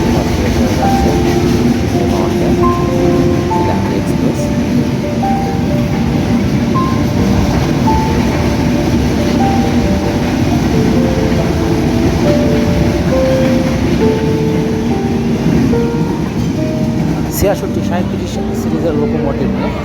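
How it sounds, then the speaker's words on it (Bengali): A Dhaka-bound Silahati Express passenger train pulls into Akkelpur railway station on line two, its loud, continuous rumble and rattle of wagons filling the whole stretch, with muffled voices in the background. "সিলাহাটি থেকে ছেড়ে আসা ঢাকাগামী আটশো ছয় যেমন সিলাহাটি এক্সপ্রেস আকিলপুর রেলওয়ে স্টেশনের দুই নম্বর লাইন থেকে প্রবেশ করেছে"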